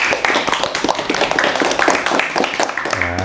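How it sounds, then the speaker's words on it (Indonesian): A group of people clapping their hands together in a room, a dense burst of claps running for a few seconds close by, with some voices mixed in. "Ya, tepuk tangan dulu buat semua."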